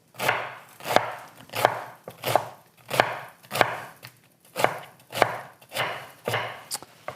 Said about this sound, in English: I like to do my cabbage in thin strips, like this.